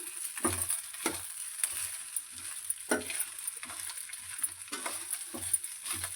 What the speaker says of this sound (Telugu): రైస్ వేసుకున్నాను బాగా కలుపుకుంటాను